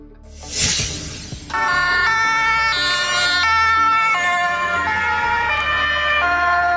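Ambulance van siren starting with a short noisy burst, then a loud, close electronic tone stepping between pitches in a steady alternating pattern that keeps going without a break.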